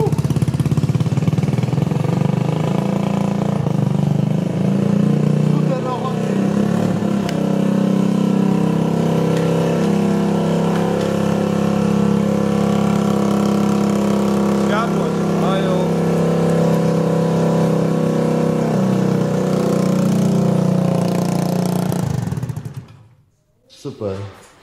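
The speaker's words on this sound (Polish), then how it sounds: "No chodź na odpalenie skutera." A scooter engine runs loud and close for over twenty seconds, a steady droning idle with rises in revs, cutting off abruptly near the end.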